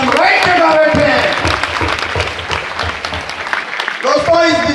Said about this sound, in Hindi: अपने लिए जोरदार तालियां बजा लीजिए